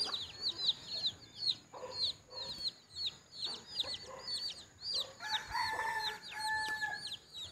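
Loose chickens roam a Filipino garden in the morning, with repeated clucking and chirpy calls throughout and a rooster crowing partway through, moderately near and without talk.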